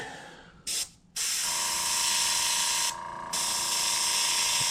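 An airbrush spraying paint onto handmade fishing lures gives a steady close hiss in several bursts, with a short gap and a brief dip in pressure between sprays.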